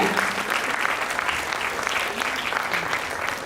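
Sustained applause from a crowd at a sickle cell foundation gathering, a steady wash of many hands clapping with some voices underneath.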